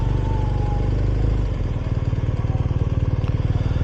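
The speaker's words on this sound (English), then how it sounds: "that's one thing I like about this RS, the boxer engine" BMW R 1250 RS motorcycle with a boxer engine in city traffic, close and fairly loud, settling into a rapid, even low-pitched pulsing idle after a brief smoother rev at the start.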